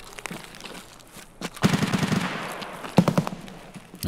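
Gunfire in the video game Escape from Tarkov: two bursts of rapid shots crackle at moderate distance, separated by quieter moments.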